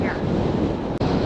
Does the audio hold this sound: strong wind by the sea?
yes